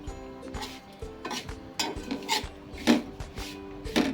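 Grated coconut is stirred with a utensil in a pan of ghee over low heat, giving a series of soft scraping and clinking strokes in an irregular rhythm, close and moderately quiet, with no talking.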